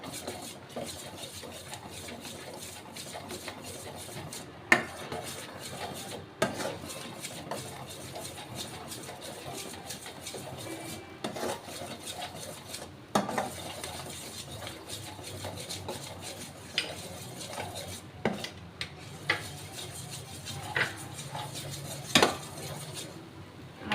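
Almond halwa with ghee is stirred in a pan, a spatula scraping and rubbing steadily with scattered clinks against the metal, quiet and close with a faint sizzle beneath.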